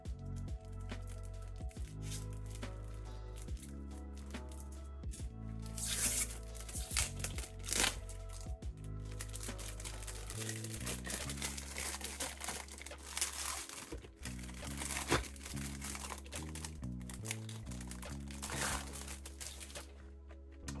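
A plastic bag wrapped around a boxed cassette-tape game is cut open and pulled away, giving steady close crinkling and crumpling over continuous background music.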